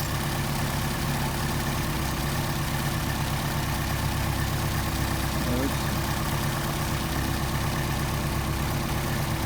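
An engine fitted with a Solex carburetor idles at a steady, even rumble while the carburetor is tuned, constant and close, with someone talking over it.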